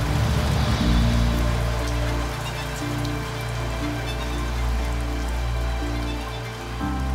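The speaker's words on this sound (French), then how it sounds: "La pluie ne me gêne pas, en fait." Steady rain falls along the banks of the Doubs river, a dense, even hiss of drops pattering on surfaces outdoors, continuous and fairly close, with a low rumbling undertone.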